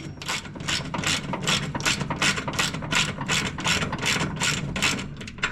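A ratchet wrench clicks in quick, regular strokes while tightening nuts on a John Deere S140 48-inch mower deck, close and steady, with no talking.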